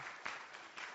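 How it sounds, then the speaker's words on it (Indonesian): Brief, soft applause from a church congregation, a quick patter of hands clapping heard at a distance. "Tepuk tangan buat Tuhan dong."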